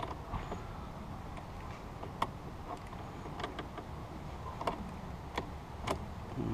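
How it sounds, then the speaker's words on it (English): A crescent wrench works loose the 10 mm negative battery terminal on a 2010 Nissan Armada. Faint, scattered metallic ticks and small creaks stand out sparsely against a quiet, steady background hum. "I'm just going to use a crescent wrench because it's what I've got"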